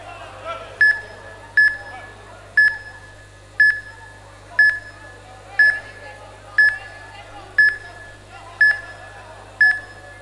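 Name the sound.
fight timer counting down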